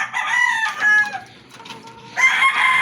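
Rooster crowing close and loud, with a drawn-out crow followed by a pause and another crow, clucking chickens faintly around it.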